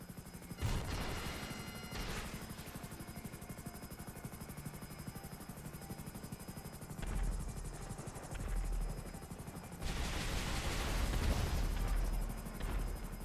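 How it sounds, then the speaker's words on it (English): In GTA Online, a helicopter's rotor drones steadily while bursts of rapid gunfire and heavy barrage-missile blasts erupt at intervals, loud and close. "just tilt your helicopter down and then fire barrage missiles at it"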